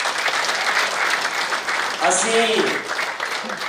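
Crowd applause at the Ardaas Karaan music launch in Chandigarh, steady clapping with a voice speaking over it midway.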